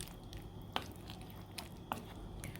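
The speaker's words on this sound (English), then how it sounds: "So we're stirring this all in, getting every single thing incorporated." Butter chicken sauce is stirred in a pot, making faint wet squishing and soft scraping with a couple of light clicks of the spoon against the pot.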